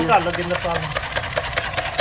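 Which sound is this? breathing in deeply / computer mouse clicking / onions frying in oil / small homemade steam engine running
small homemade steam engine running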